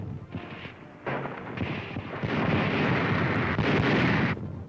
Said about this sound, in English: There's the naval station at Bizerte, being pounded by American shells.